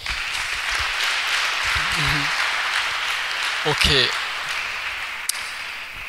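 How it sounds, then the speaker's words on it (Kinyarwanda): Church audience applauding a pastor, a sustained wash of clapping across the whole stretch with a few voices briefly rising over it. "reka twamwongera amashyi"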